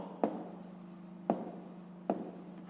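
A pen writing numbers on paper for a fifth-grade math exercise, heard as three brief, sharp taps over soft scratching strokes, close and fairly quiet, with no talking.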